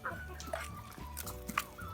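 Bielefelder roosters and hens cluck in a farmyard, with several close, overlapping clucks and short calls over steady low background noise.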